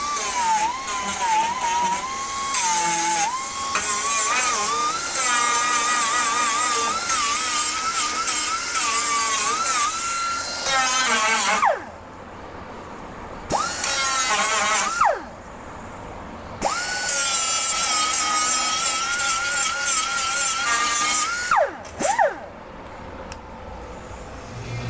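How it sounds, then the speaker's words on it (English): Air grinder working a weld on the cab A-pillar of a 1962 Chevrolet C10 pickup truck, a loud high whine that spools down and restarts several times, rising and dipping in pitch as it bites the metal. "I'll use my regular air grinder."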